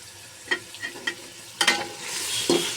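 Chopped tomatoes are stirred into vegetable noodles in a frying pan: a few soft spatula scrapes and taps, then a rising hiss of sizzling near the end, with no talking.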